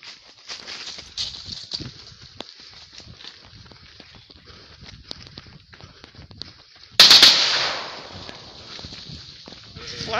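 A single sharp gunshot cracks out loud and near during an armed security operation in open land, its echo trailing off, after a stretch of restless background rustling and movement.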